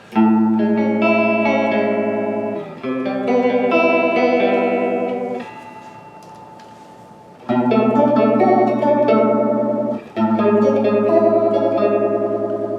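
Electric guitar chords played through an MXR Phase 95 phaser pedal, giving a swirling, shimmering tone; playing pauses briefly midway before resuming loudly.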